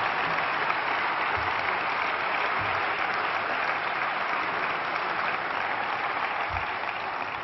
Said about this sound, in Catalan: Demano un fort aplaudiment per tota la gent que ha fet possible que tot funcioni